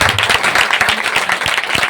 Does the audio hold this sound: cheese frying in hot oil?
no